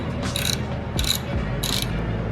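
Ratchet working exhaust bolts loose on a Skyline GTR R32 during a downpipe install, three short bursts of clicking close by over steady low background noise.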